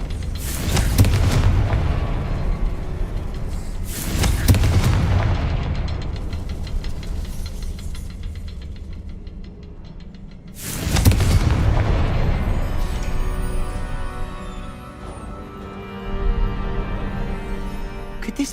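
The Confringo spell in Hogwarts Legacy sets off several heavy booming blasts, each a deep, loud burst with a rumbling tail, spaced a few seconds apart over a low, continuous background.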